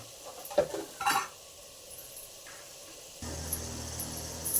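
Tomatoes fried with salt and turmeric in a pan for egg pulav, with a few clinking spoon-on-pan stirring knocks early on, then a low steady frying hiss toward the end.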